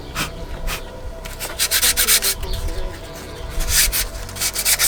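Sandpaper of 120 grit works over a 3D printed Iron Man Mark 3 helmet in quick rasping strokes, close up, with clusters of rapid back-and-forth scrubbing and short pauses between them.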